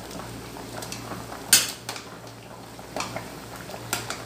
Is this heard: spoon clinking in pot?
yes